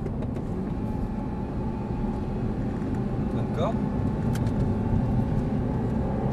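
An Audi R8 engine drones steadily in broadband noise on the Marcoussis track while a man calls out instructions over it, with no clear surge of revving.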